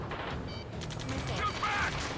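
Dense, continuous gunfire during a ground rescue battle in the combat game Ace Combat 7: Skies Unknown, with rapid overlapping shots and mechanical clatter filling the whole stretch.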